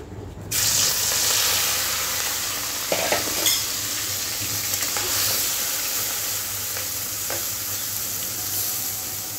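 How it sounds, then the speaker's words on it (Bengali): Prawns hitting hot oil in a wok for a bottle gourd and prawn dish, a loud sudden sizzle that stays as a continuous dense crackle with occasional stirring knocks. "এখন আমি মাছগুলো ভেজে নেব।"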